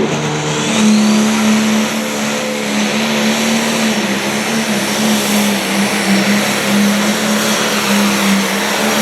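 A limited pro stock pulling tractor roars loudly and steadily down the track at a Jacksonville, Illinois tractor pull. The heavy engine drone stays constant throughout with no voices.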